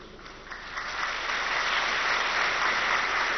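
Audience at a spiritual gathering breaks into applause, starting lighter and swelling into sustained, even clapping from many hands that holds steady to the end.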